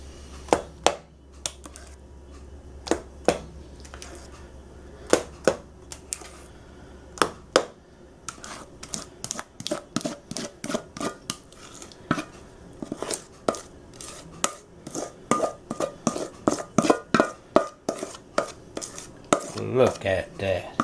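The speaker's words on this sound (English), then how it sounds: "Let's get equal amounts of batter in each pan" Cake batter is scooped and divided into baking pans, making a long series of sharp utensil clinks and taps against the pans. The clinks start sparse and become rapid and dense toward the end.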